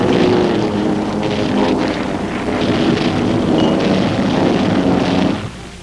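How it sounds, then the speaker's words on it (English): Archival 1945 wartime aerial footage of Iwo Jima-based fighter planes escorting heavy bombers in flight: a loud, steady droning engine roar with wind rush, cutting off abruptly at the end. "Iwo Jima-based fighters escort the heavy planes with an Army Air Force camera along."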